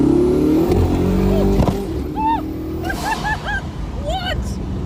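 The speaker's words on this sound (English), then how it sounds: "There was that massive pop, and then you hear the turbos." Supercar accelerating hard, a loud engine roar in the first two seconds, then a sharp pop and rising turbo whistles chirping repeatedly, with a voice over the top.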